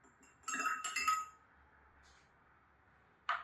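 A metal utensil clinks against a glass while cactus hemoglobin juice is mixed: a bright cluster of rapid clinks, a short pause, and one final sharp ding, close and clear in a quiet room.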